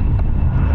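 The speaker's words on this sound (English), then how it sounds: "Plane up there." Propeller airplane passing overhead above a golf course, a steady low broadband drone heard continuously and fairly loud, with no talk.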